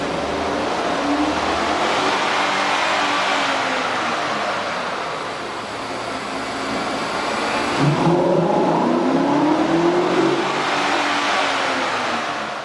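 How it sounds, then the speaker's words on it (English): A truck engine fitted with a K&N cold air intake revs and accelerates, a loud continuous roar that rises and falls, with a sharper climb in pitch partway through. "You can really see and hear the difference the K&N air filter system will make to your truck."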